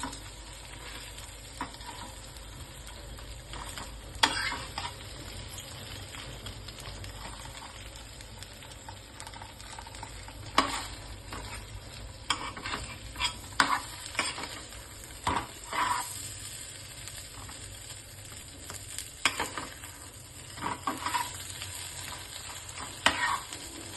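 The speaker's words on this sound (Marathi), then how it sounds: "हे बघा, मस्त अशी खरपूस भाजायची मंद आचेवर आपली." A frankie roti crisping in a pan over a low flame, with a soft steady sizzle and occasional scraping and tapping as it is turned and pressed.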